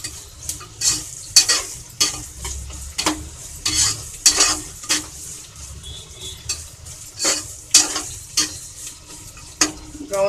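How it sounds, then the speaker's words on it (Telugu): Onions fry in a pan for mutton biryani, with a steady sizzle broken by repeated scraping and stirring strokes of a spoon against metal. The sounds are close and fairly loud, with no talk. "చూడండి, ఆనియన్స్ బ్రౌన్గా ఫ్రై అయినాయి."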